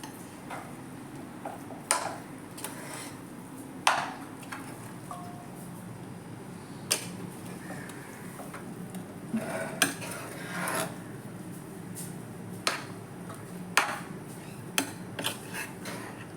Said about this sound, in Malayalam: നമുക്കൊന്ന് മിക്സ് ചെയ്തൊന്ന്